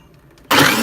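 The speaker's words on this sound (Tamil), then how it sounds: "இப்போ நம்ம மிக்ஸியில் அரைச்சிப்போம்." A loud, steady broadband whirring starts abruptly halfway through after near silence, as a kitchen mixer grinder blending rose milk kicks on and runs at full speed.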